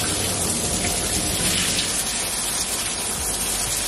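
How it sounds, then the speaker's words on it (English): Water running from a shower head as its spray settings are changed, giving a steady, dense hiss of falling spray that continues evenly throughout, loud and close with no talk. "So this is how you change the settings on a shower head."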